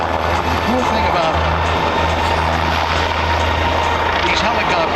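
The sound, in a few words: wide body helicopter at air show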